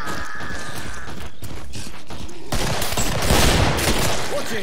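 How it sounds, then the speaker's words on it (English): Weapon reloading in the Killing Floor video game comes through as mechanical clicks and clacks, followed by a burst of louder gunfire in the second half, all amid busy game noise. "Watch it, I'm reloading!"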